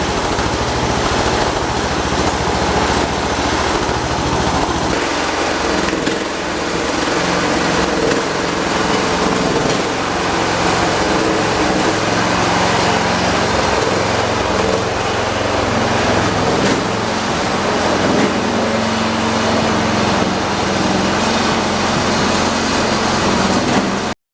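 A lawn tractor engine runs loud and close for over twenty seconds with a struggling carburetor. The drone is uneven and rough, and its pitch shifts partway through.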